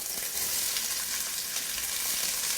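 Sliced onions hiss and crackle steadily in very hot olive oil in a skillet, an even close sizzle with no voices.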